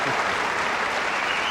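A San Diego crowd at a 1978 team tennis match between the Phoenix Racquets and San Diego Friars breaks into steady, dense applause that fills the whole stretch, loud and continuous with no pause.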